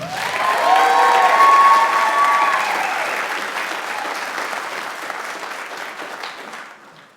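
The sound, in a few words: audience applause welcoming speaker to stage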